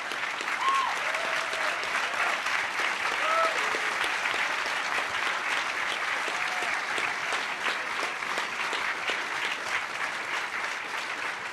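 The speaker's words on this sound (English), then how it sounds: "I would like to applaud every one of the people in the red shirts" A large conference audience applauds staff in red shirts at a closing ceremony, a sustained, even roar of clapping from many hands lasting over ten seconds, with a few faint whistles mixed in.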